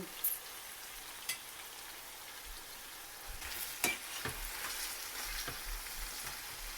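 Chicken in a spiced yogurt mix fries over a low flame, with a soft continuous sizzle and occasional scraping, tapping stirs from a utensil, faint and close.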